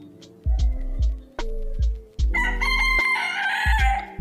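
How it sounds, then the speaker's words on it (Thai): A rooster crows several times in close succession, loud and near, with repeated drawn-out calls rising into a bright, harmonically rich crow near the end; no talking. "เสียงไก่ดังกว่าเสียงร้อง"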